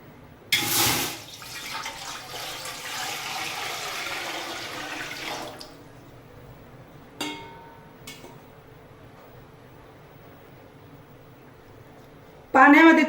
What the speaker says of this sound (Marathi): येथे एक मोठं पातेलं घेतलेलं आहे, त्यामध्ये पाणी टाकायचे गरम करण्यासाठी.